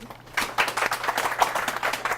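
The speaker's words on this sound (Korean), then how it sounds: "여러분 진행해준 두 분 MC분들 박수 부탁드리겠습니다" Brief, moderately quiet audience clapping for two MCs at a Korean science career mentoring session, a sparse patter of individual claps rather than a dense roar.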